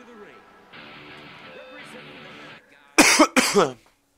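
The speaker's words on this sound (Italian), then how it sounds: "Scusate ragazzi, sta tosse" Two harsh, loud coughs burst out close to the mic after a stretch of muffled background talk and noise.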